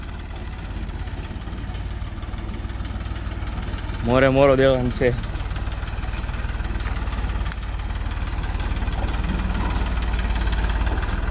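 A tractor engine idles on a farm with a steady low rumble and vibration throughout, and someone speaks briefly over it partway through.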